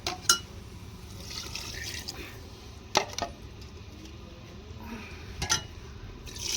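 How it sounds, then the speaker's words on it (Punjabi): Water is poured into a cooking pot holding peas and potatoes, giving a faint, quiet liquid trickle. Three sharp clinks of utensil or vessel ring out along the way. "ਲਓ ਜੀ ਹੁਣ ਪਾਣੀ ਪਾ ਦਾਂਗੇ ਆਪਾਂ"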